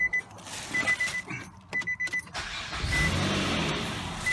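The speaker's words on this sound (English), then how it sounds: "It's starting right now," A 2003 Nissan Altima with the 3.5 engine, fresh from a transmission replacement, cranks in uneven bursts and then catches into a steady idle, close and fairly loud, with a high chime tone sounding intermittently.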